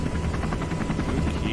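Black Hawk helicopter mix playing in Kerbal Space Program, a loud, close, continuous rotor thump with rapid blade chop over a dense turbine roar, heard alone.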